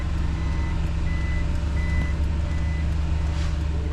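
A camper van backs up in Pangasinan, its reversing alarm giving a few evenly spaced high beeps over a steady, close engine hum.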